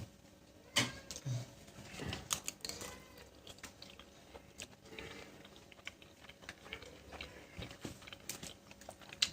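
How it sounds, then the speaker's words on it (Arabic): Close-up chewing and biting of chicken shawarma pasta with mushrooms, peppers and tomatoes, with wet crunchy bites and mouth noises coming in irregular bursts, fairly faint and with no talking. "تعالوا بقى ندوق الشاورما الاول"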